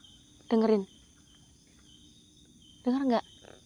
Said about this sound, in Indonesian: Burung celepuk ya.